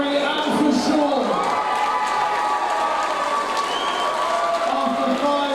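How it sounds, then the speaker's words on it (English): Crowd applause and cheering for two boxers after five championship rounds at a professional boxing event, a steady roar of clapping and shouts at close range with voices mixed in. "Let's have a round of applause, please, for Harry and for Sean."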